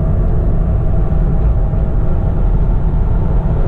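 Tesla Model 3 Performance in Track Mode pulling hard out of a corner on a racing circuit, a loud, steady low electric-drive rumble with road and wind roar, sustained without a break.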